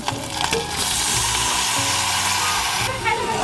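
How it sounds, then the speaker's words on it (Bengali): Spices and gram flour batter sautéed in a pan give a loud, steady close sizzle with faint stirring scrapes throughout. "এরকম করে ভালো করে একটু কষিয়ে নেব"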